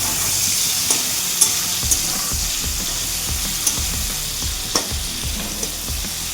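Prawns fried in hot oil in a wok, giving a continuous bright sizzle and crackle with soft stirring knocks and occasional pops, close and fairly loud, with no talking.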